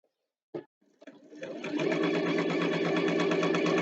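A sewing machine stitches along the edge of a fabric scrunchie, starting with a short thump and a few hesitant stitches before settling into a steady, close, continuous whirring hum, with no talk over it.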